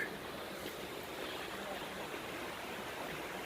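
The East Fork stream flows in a steady, broadband rush of water, continuous and fairly faint, with no talking.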